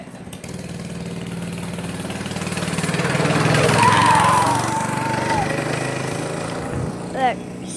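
A dirt bike engine drones steadily at moderate distance, swelling and fading slightly as it rides past, with voices talking over it.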